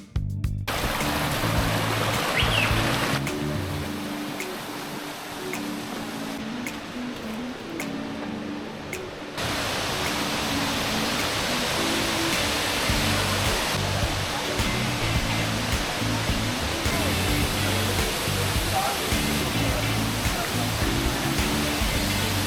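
A waterfall roars steadily throughout, a dense rushing wash of falling water, loud and close with no voices.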